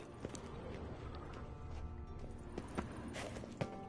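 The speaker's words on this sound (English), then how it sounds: "Another horse. Almost exactly like the last one." Horse hooves clip-clop at a walking pace in The Witcher 3 game, a steady patter of light hoof falls at moderate distance over continuous game ambience, with a few sharper hits standing out.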